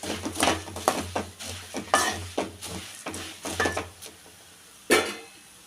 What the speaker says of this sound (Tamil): இப்போ இதை நல்லா கலக்கி விட்டுருக்கப்போ